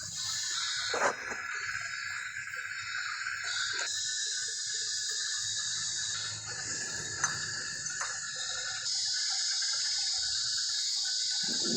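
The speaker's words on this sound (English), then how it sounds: "I decided to use the condensate trap hose to put on the heating side to drain it down." Water drains from a commercial gas heating system through a condensate trap hose, a steady running and trickling flow with a few sharp knocks and clinks close by, with no voices.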